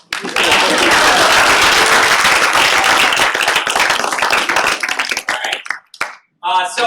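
Audience clapping for the Malloy team at a university tech event, dense sustained applause lasting several seconds that thins into scattered claps before fading.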